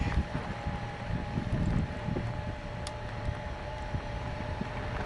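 Steady, heavy wind roars and buffets the microphone throughout, a constant low rumble with no voices.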